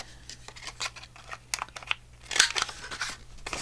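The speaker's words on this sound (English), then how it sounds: "I'm going to cut it into a tag shape." Scissors snip paper into a tag shape in a rapid run of short, crisp cuts close by, ending in a louder rustling crunch as the paper is handled.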